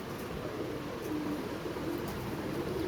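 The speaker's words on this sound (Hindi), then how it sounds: "गुम्बद वाले कबूतर हैं" Soft, low cooing of domed pigeons repeats several times over a steady background hum, fairly close and gentle.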